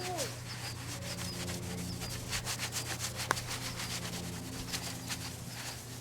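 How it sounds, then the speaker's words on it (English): Surfboard wax being buffed off with The Pickle wax remover, giving a continuous gritty rubbing with quick back-and-forth strokes and a low hum underneath. The sound is close but quiet, with one brief sharp click midway. "it takes a little bit of, you know, buffing to get it out, to get this wax off"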